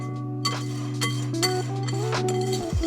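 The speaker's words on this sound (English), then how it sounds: "we're literally gonna go around the outside of the bowl, shaking off the contents of the whisk" A whisk knocks against the rim of a mixing bowl of pancake batter, sounding as several sharp clinks in an uneven rhythm over a steady low hum, close and fairly quiet.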